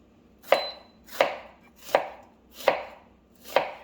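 An onion being chopped on a cutting board for split pea soup, five evenly spaced crisp knife strikes about three-quarters of a second apart, close and clear with no talking.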